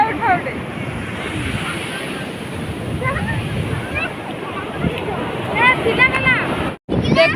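Sea waves wash steadily onto the shore with a constant roar, buffeted by wind against the microphone, as people chat nearby.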